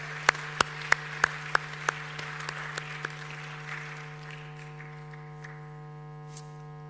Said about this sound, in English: So a warm round of applause, please.